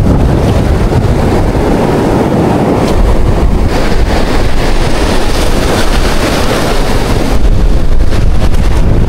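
Large waves surge along the shore near a fishing spot as wind batters the microphone, a continuous heavy wash of surf and gusts, loud and unbroken, with no talk.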